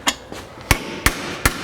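Hammer taps on the pillar trim of a 2006 Mini Cooper JCW, striking about five times in a steady, loud rhythm with no talking.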